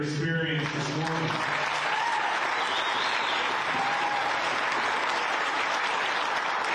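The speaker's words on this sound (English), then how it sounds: "let's give a big round of applause" A crowd at a golf championship pairings party gives a big round of applause, steady sustained clapping that starts just after a voice and carries on alone.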